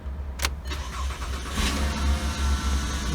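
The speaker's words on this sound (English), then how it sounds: "So now we fire this thing up, and it's running." A 2006 Volkswagen Golf engine cranks with a short sharp catch, then settles into a steady, loud low idle up close, heard alone without talk.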